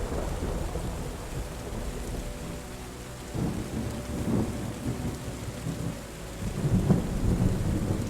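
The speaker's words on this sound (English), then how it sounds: "the rain and the thunderstorm is amazing" Steady heavy rain pours throughout in the video game Terra Nil, with low rolling thunder rumbling in a few times, swelling loudest near the end.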